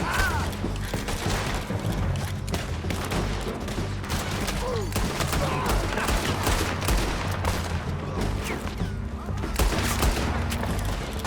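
Sustained gunfire from Red Dead Redemption II, with dense overlapping shots and bursts rolling steadily and loudly through the whole stretch, with a busy mix of impacts and booms, sometimes under a voice.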